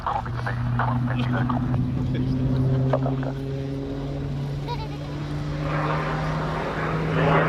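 A propeller display aircraft at the Cosford Airshow roars in a dive, its steady droning engine tone rising and shifting over several seconds while a commentator talks over the loudspeakers.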